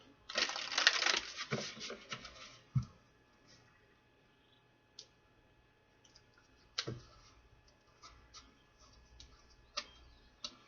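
A quick burst of card riffling near the start, followed by scattered faint clicks and taps of cards being handled.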